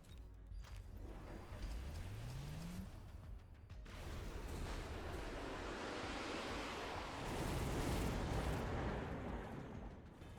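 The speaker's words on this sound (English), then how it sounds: "You just throw a missile down here." A missile strike in the strategy game Mechabellum sets off a broad, roaring explosion rumble that swells and lingers for several seconds, like a sustained blast wash.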